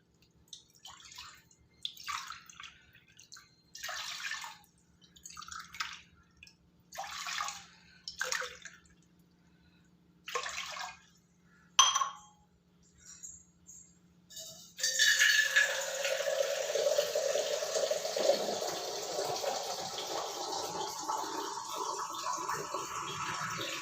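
Several short splashes of water poured in bursts, then a long steady pour into a pot of rice and lentils for venn pongal, close and clear.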